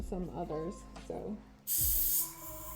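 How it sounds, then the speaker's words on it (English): Paint spraying onto a garage kit figure, a short loud airbrush-like hiss that follows a man's speech and continues on its own. "depending on the color that you're spraying"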